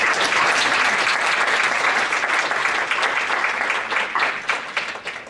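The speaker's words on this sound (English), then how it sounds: "So, a round of applause for her." Loud, sustained applause from a crowd at a council Black History Month event, steady clapping that gradually thins out toward the end.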